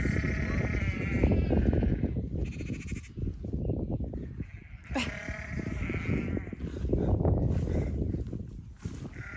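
Sheep and young lambs bleat repeatedly and loudly at close range, several animals calling over one another in overlapping cries, with faint rustling and movement between calls.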